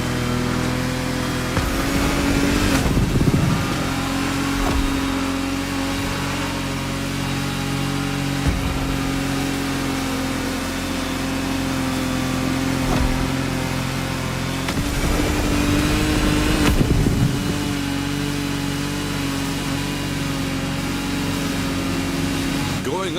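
An Ice Marine Blade Runner 35 powerboat in The Crew Motorfest races upriver through rocky, shallow, narrow water, its engine holding a loud, steady drone with swelling revs throughout, and a voice may be faintly present underneath.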